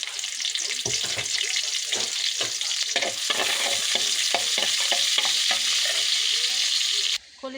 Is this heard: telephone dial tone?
no